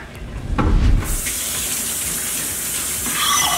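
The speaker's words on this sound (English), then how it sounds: "now we're gonna take our bones and we're gonna rinse them off." Ox bones for Korean seolleongtang rinsed under a running kitchen tap: a splash and rumble as water hits the bones, then a steady close hiss of flowing water, fairly loud and without speech.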